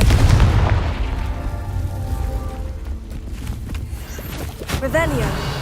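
A Confringo spell blast booms loudly in Hogwarts Legacy, then rumbles and crackles down, with a short whooshing magical flourish near the end.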